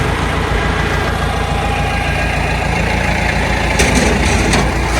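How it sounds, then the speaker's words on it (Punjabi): A Deutz 80 horsepower tractor engine runs steadily at close range, a loud, even low-pitched diesel drone with a slight rise in intensity near the end. "ਬਾਕੀ ਡਿਊਟਸ ਟਰੈਕਟਰ ਆ ਵੀਰੇ 80 ਹਾਰਸ ਪਾਵਰ ਟਰੈਕਟਰ ਆ ਇਹ"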